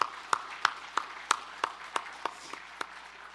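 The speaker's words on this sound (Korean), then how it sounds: "우리 하나님께 영광의 박수 올려드리겠습니다." A church congregation claps together in steady, evenly paced beats, about three per second, moderately distant and reverberant in the sanctuary, with no talking over it.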